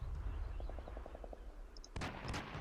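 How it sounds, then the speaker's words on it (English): Bursts of small arms fire in the combat game CMSF2 as a building is shot up: a quick rattling series of reports, then sharper louder cracks near the end, over a steady low rumble. "there's some small arms fire going on there."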